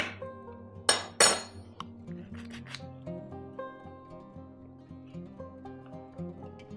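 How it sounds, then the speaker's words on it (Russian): Spoon or whisk scraping and clinking against a bowl while flour is folded into cake batter, a few sharp clinks early on, then softer intermittent scraping alongside background music. "Аккуратно вмешиваем муку в тесто."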